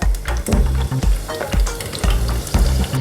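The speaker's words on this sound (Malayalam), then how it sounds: "അതിലോട്ട് നമുക്ക് പച്ചമുളക് ഇട്ട് കൊടുക്കാം. പച്ചമുളക് ഫ്രൈ ആയിട്ടുണ്ട്." Green chillies fry in hot oil for beef chilli, a loud steady sizzle broken by several bursts of spattering and stirring clatter, with no talking.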